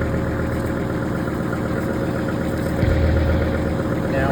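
A 1958 tractor engine idles in a steady, loud, low rumble that runs throughout, growing slightly fuller partway through, with no talking.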